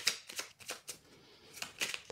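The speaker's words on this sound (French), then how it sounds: "on va tirer une carte de conclusion avec l'oracle des druides" Cards are shuffled and drawn from the Oracle des Druides deck, soft riffling swishes and light papery flicks in a quick irregular run, close and quiet with no voices.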